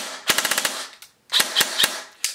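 An airsoft G&G Mk18 Mod 1 rifle fires loud, close bursts on full auto: a rapid string of sharp cracks, a short pause, then a second burst and a final single shot.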